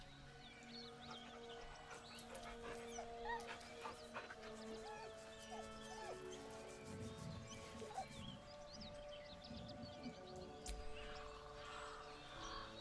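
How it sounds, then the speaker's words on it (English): A dog whimpers nervously in Baldur's Gate 3, soft repeated whines and faint chirping cries over a quiet, steady game ambience with no talk. "The dog whimpers nervously, as if to urge you on."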